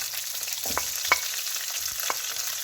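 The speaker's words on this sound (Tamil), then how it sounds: "ரெடி பண்ணி வச்ச வெள்ளைப்பூடை சேர்த்து வதக்கி கொள்வோம்" Garlic sautéed with curry leaves in a pan for a Tamil squid kulambu: a soft, continuous frying hiss broken by a few distinct spatula scrapes and taps, with no talking.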